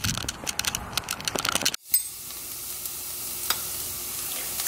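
Food sizzles and fries steadily in a pan with some stirring clatter, a brief pause near the middle, then a continuous hiss resumes, close and moderately loud with no talking.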